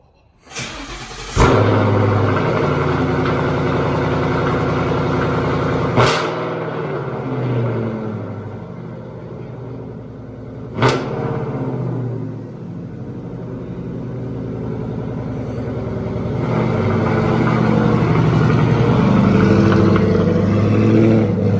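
A 2016 Ford Mustang GT fitted with a Borla exhaust drives on a road test, its V8 rumbling steadily with sharp shift breaks and surges of acceleration, loud and close throughout.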